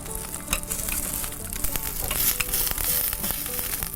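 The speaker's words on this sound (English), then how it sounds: "I can hear our kale popping away." Kale sizzling steadily on a hot barbecue grill, with crackles and sharp pops scattered throughout, close and fairly loud.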